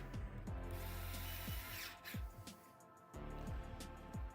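A power screwdriver driving screws into a Corsair 7000D PC case, several short repeated whirring bursts in a row, fairly quiet, with faint background sound between them.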